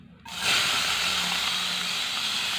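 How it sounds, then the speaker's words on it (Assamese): Finely chopped onions hit hot oil in a wok (kadai) for a fish curry, bursting into a loud, close hiss that holds steady after a brief quiet start. "এতিয়া পিঁয়াজখিনি দি এইখিনি পিঁয়াজ মই কেৰাহীত দি দিম।"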